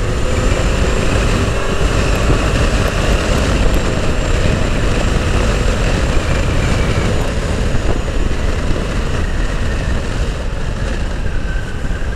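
A Yamaha Tenere 700 motorcycle rides along a country road, its engine drone and wind roar blending into a loud, constant rush with no one speaking.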